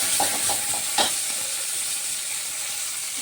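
Mustard seeds popping and frying in mustard oil, a close hiss with a few quick crackles and utensil taps early on, then a steady sizzle, no talking.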